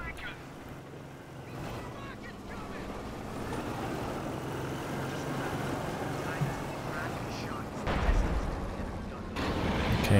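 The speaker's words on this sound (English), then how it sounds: "another howitzer barrage coming in here" A howitzer artillery barrage in Company of Heroes 2 rumbles as a dense, continuous roar of explosions, swelling into a heavier burst near the end.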